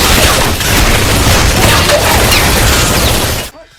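Loud, dense gunfire from soldiers in a film battle scene against creatures, sustained bursts of shots and booms filling the whole stretch before cutting off abruptly near the end.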